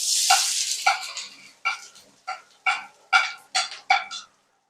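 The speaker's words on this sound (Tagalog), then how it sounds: "So ngayon, magigisa na tayo ng sibuyas." Onions sautéing in a pan after fish has been lightly fried, with a loud initial hiss followed by a series of sharp, rhythmic sizzling bursts as the onions are stirred, close and without talk.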